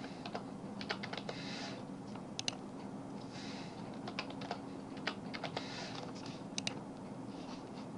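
Keys on a computer keyboard being typed in quick irregular bursts as a search term is entered, close and fairly quiet over a steady low room hum, with no talking.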